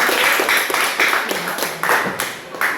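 Schoolchildren in an Indonesian classroom applaud a student group with dense, continuous clapping that swells in uneven waves, close and fairly loud.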